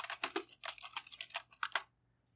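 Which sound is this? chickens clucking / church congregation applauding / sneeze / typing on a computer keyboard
typing on a computer keyboard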